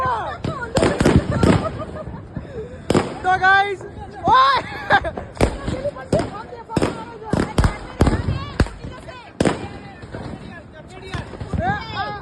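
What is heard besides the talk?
firecrackers and fireworks bursting during Diwali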